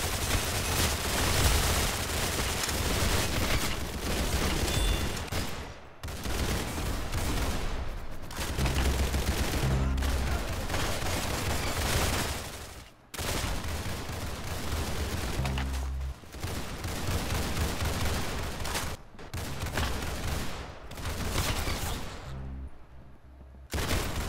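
Video game gunfire in dense, sustained bursts of rapid shots and booms, loud and continuous with a few brief pauses between volleys.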